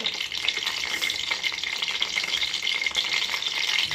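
Coconut oil sizzles and splatters steadily in a pan, a dense, close crackling hiss that holds even throughout with no voices.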